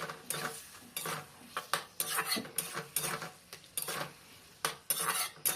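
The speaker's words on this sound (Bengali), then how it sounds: "তো জল দিয়ে এইভাবে নাড়াচাড়া করতে হবে" A utensil stirs katla fish curry in a pan after water goes in, giving a quick series of close, sharp scraping and clinking strokes in an uneven rhythm over a faint simmer.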